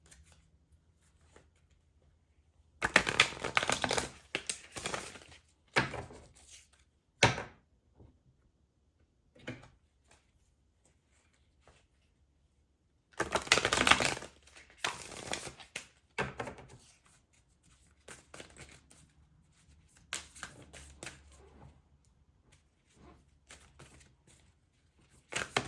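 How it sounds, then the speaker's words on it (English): Tarot cards are shuffled by hand in a quiet room. Two longer riffling bursts come with scattered shorter taps and slides between them, close up and with no speech. "Let's shuffle these."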